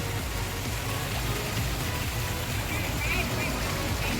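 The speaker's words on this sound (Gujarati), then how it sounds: "વીજળીના કડાકા ને ભડાકા સાથે હજુ ચાલુ જ છે વરસાદ" Heavy rain pours steadily during a night thunderstorm in Junagadh, a dense broadband hiss that stays loud and unbroken throughout, with low rumbling underneath.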